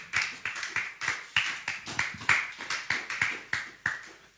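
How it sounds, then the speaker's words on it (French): Congregation applauding at a church service, a steady run of roughly a dozen clap bursts in a regular rhythm, fairly close and moderately loud, with no one talking. "Acclamons la parole du Seigneur"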